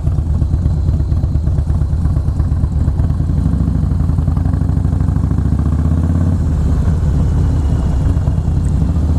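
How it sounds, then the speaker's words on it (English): A Harley motorcycle engine runs loud and close with a deep, lumpy, pulsing rumble that holds steady throughout, with slight shifts in pitch. "enjoy the sound of your engine."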